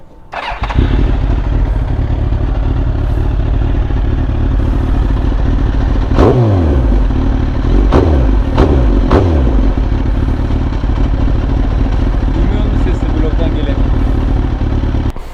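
A Harley motorcycle with a fault that cuts the throttle at 110 idles loudly up close, with several sharp revs in the middle, while people talk over the engine.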